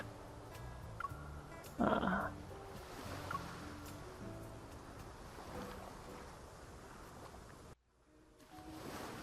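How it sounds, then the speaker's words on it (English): Churning sea waves in the Love & DeepSpace video game make a steady broadband wash that swells once, loud, then drops out briefly near the end before returning. "Hearing the churning sea, I vaguely remember resting my head on a pillow and closing my eyes."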